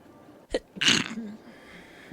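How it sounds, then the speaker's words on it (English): A single sharp sneeze lands directly on the microphone while someone plays the Cities: Skylines city-building game, loud and close with a brief throaty catch just before it, then quiet room tone. "I don't know if I sneezed right on the microphone"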